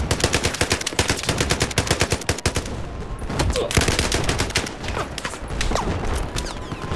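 Rapid bursts of machine-gun fire in a video game, loud and close, with dense rhythmic shots running almost without pause.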